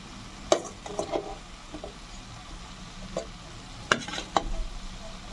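Fried potato pieces being sautéed in a pan for a duck egg curry with cauliflower and potato, with soft scattered spatula scrapes and a few sharp clinks over a faint, low sizzle.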